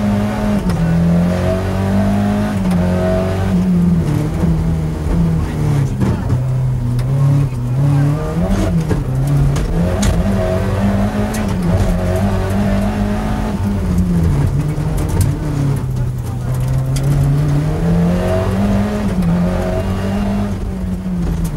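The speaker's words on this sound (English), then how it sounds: "What you're looking at is the impressive power of an engine reckoned to be delivering a steady 295 horsepower" A Ford rally car engine of about 295 horsepower, heard onboard at speed during a 1990 British Open Rally Championship round: loud, continuous roar with rising and falling revs through gear changes, close up and steady for the whole stretch.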